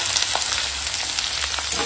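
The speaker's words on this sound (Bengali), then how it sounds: "এখন দিয়ে দেবো কেটে রাখা পটল, আলু, পেঁয়াজ কুচো, কাঁচা লঙ্কা চেরা দিয়ে সবজিটা একটু ভেজে নেব।" Chopped pointed gourd, potato, onion and slit green chillies fry in hot oil with tempering spices, a dense steady sizzle with occasional stirring scrapes, close and loud with no voices.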